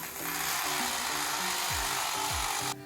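A power drill bores into tile to enlarge a small hole for a wash basin bolt, producing a loud steady grinding whine with two brief pitch dips, then cutting off abruptly at the end.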